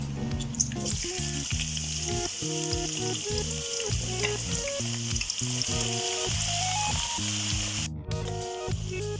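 Chopped onions and whole garam masala fry in hot oil for dal karahi, giving a loud, continuous close-up sizzle with occasional stirring. Background music plays throughout, and the sizzle briefly cuts out near the end.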